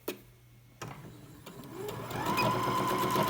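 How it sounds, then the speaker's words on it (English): A sewing machine stitches the long curved outer edge of a homemade fabric face mask, with two pieces placed right sides together. A sharp tap opens it, then a steady mechanical whir builds and runs close and fairly loud, with no talk. "First thing you want to do is put your 2 right sides together of the outside of your mask and sew"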